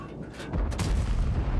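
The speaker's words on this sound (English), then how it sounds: "We get a nice shot into the lower plate of that VK heavy tank." An M48 Patton tank cannon fires in a video game battle, a heavy booming shot that hits abruptly partway through and then rolls on in a dense, loud rumble.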